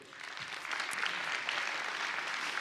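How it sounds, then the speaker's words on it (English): Church audience giving a round of applause for a guest named Jake, a bright, crowded clatter of clapping that swells after the first half second and stays steady to the end. "Give a round of applause for Jake"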